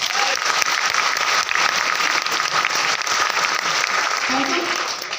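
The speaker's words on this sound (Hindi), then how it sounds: "दोस्तों एक शानदार ताली होना चाहिए" A crowd applauding loudly and steadily, dense clapping sustained throughout without a break.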